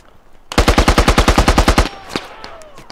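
Sustained machine gun fire in a video game, a rapid burst of about fifteen evenly spaced loud shots lasting over a second, followed by fainter distant shots and battlefield noise.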